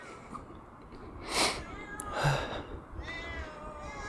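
A cat meows at night, a couple of clear close cries with harmonic tails amid faint background hiss, the second one longer than the first.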